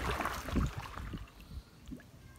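Canoe paddles dip and pull through flowing creek current in the Everglades, giving a few soft, close splashes and gurgles spaced irregularly over quiet background water.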